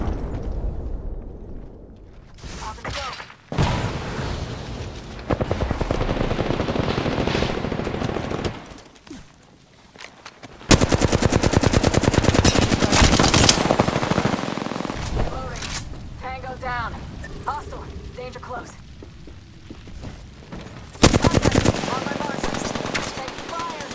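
Gunfire in the video game Apex Legends, dense rapid automatic bursts and single shots repeating over the whole stretch, loud and close, with short pauses between volleys and occasional in-game voice talk.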